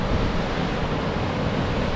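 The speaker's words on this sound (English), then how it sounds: "there's Blackwater Falls. That's the main waterfall." Blackwater Falls in West Virginia rushes with a dense, steady roar of falling water, a constant broadband wash heard alone without talk.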